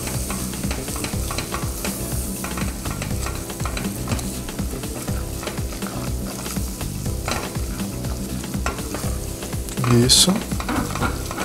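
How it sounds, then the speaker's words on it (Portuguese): Flour stirred into melted butter in a pan makes a steady close sizzle with continual scraping of the spoon; one brief spoken word near the end, and a short utensil clink. "Derretida a nossa manteiga, agora entra a farinha de trigo. E aí nós vamos mexer isso daqui."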